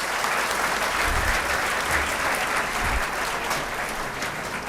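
Seminar audience in Begusarai applauding to welcome a speaker, a dense, steady clapping from a crowd that fills the room from start to finish at an even level, with no pauses.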